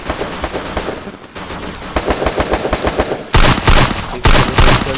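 Rapid automatic gunfire from MP5 and M4A1 weapons in a Free Fire Clash Squad match, with dense bursts of close, loud shots and sharper, heavier volleys in the last couple of seconds.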